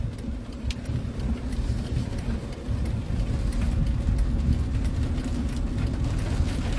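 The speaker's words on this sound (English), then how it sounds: "It's pouring down here in Philly." Pouring rain in Philadelphia heard from inside a car on the road, a constant low rumble of tires and engine under a hissing downpour with faint scattered drop ticks, steady throughout with no voices.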